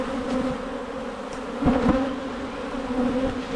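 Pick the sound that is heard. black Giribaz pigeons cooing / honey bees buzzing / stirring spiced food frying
honey bees buzzing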